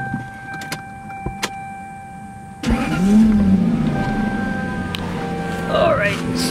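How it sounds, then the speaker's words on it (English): A Lexus SC400 with a 1UZ-FE V8 cranks and catches at mid-clip, then settles into a steady idle with a brief rev, heard up close over a quiet garage background with faint clicks before the start. "let me just go ahead and start the car."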